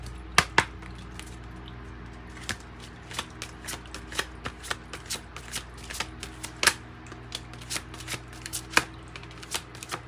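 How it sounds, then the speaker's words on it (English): Angel oracle cards being shuffled by hand, a steady run of sharp riffling snaps and soft slides close up, with no one talking. "Let's pull some angel cards too for Scorpio."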